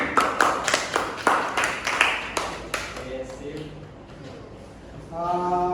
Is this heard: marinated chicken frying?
no